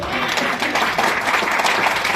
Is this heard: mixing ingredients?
no